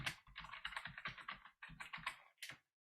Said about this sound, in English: So here I'm going to type Alastair